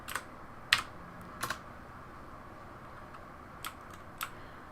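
Sparse keystrokes on a computer keyboard, a few sharp clicks in small bursts separated by pauses, close and fairly quiet over a low fan-like hum.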